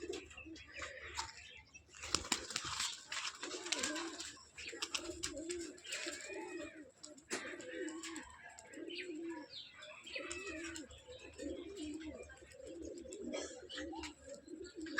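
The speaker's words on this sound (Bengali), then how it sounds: "এটা গিরিবাজ।" Giribaz pigeons cooing and chirping nearby in a steady run of soft repeated calls, with occasional wing flaps and faint background noise.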